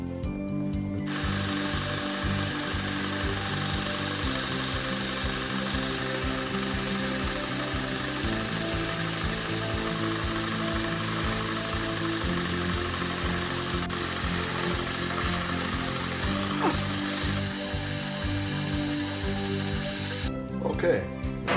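A metal lathe turns a 1.5 inch aluminum bar down in size, running as a steady mechanical hum with shifting tonal bands and cutting noise for about twenty seconds.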